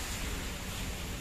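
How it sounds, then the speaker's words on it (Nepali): Stream water pours down from above in Darjeeling-like hill country, a steady, loud broadband rush with no breaks, close to the microphone and without talk. "हेर्नु सक्नुहुन्छ एकदमै पानी राम्रो आइरहेको रहेछ माथिबाट"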